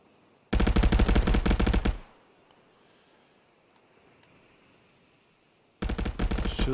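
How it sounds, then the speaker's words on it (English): Automatic gunfire in the VR shooter Contractors VR, one loud rapid burst lasting over a second, a quiet pause, then a second burst starting up close. "they shoot Carlotas in the middle"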